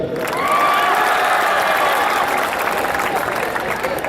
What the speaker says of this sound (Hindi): अरे नमन कर दिया, ताली तो बजा दो।